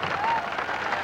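A brief burst of rodeo crowd applause and cheering for a saddle bronc rider, a short, even wash of clapping at moderate volume.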